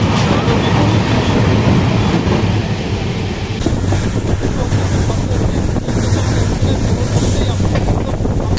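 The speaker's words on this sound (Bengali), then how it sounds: "আর ডিজেলের ইঞ্জিনে ভাই প্রচুর আওয়াজ" A diesel train engine running loudly while the train travels through forest, a dense continuous roar and rail rumble with wind buffeting, heard from on board and close.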